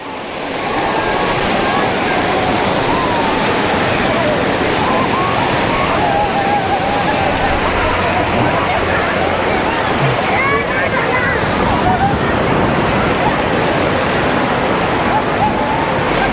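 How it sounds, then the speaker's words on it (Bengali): Steady roar of waves breaking and washing onto the beach at Digha, India, loud and continuous throughout, with surf churning close by. "এখানকার বাতাস পানির শব্দ আর ঢেউয়ের ছন্দ"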